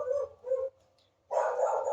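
A dog barks nearby in a short series: two quick barks, a brief pause, then a longer, louder bark or yelp.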